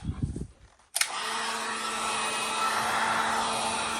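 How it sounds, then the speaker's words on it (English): After a click, a heat gun starts blowing steadily close by on freshly sprayed wrinkle paint, a constant airy whir with a low hum. "we're gonna hit it with the heat gun and see if it wrinkles nicely"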